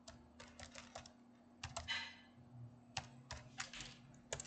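Quiet keystrokes tap on a computer keyboard as an administrator password is entered on Ubuntu Linux 24.04.1, short clusters of clicks separated by brief pauses over a faint steady hum.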